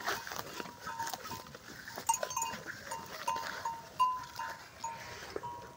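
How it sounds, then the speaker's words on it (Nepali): Goats grazing in a riverside pasture, faint tearing and munching of grass with scattered soft rustles and light clinks, quiet and close with outdoor ambience. "यो खोलामा बाख्रा चराउँदैछु।"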